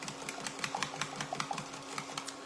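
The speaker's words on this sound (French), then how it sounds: "on mélange bien, prenez vraiment le temps hein, de bien fouetter" Eggs whisked in a bowl for a Spanish potato tortilla, eight eggs in all, giving a quick steady run of light clicking beats close by with no talk.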